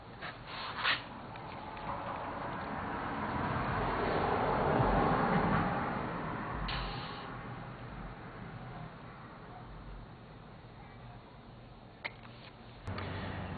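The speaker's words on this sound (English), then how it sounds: "After releasing the air in the forks" Air hisses out of the front forks of a Kawasaki KZ650 CSR motorcycle, a steady broadband rush that swells for several seconds and then fades, with a few faint clicks near the end.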